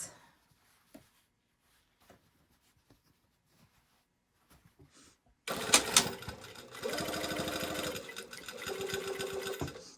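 Sewing machine stitching a seam at 5/8 inch allowance, starting after a few quiet taps with a loud rapid mechanical whirring that runs steadily, slows briefly, then resumes close up.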